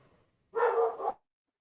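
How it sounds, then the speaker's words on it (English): A dog lets out a single short bark, close and fairly loud, followed by silence. "You barking, and I'm like, is that my dog in the background or is that somebody else's dog?"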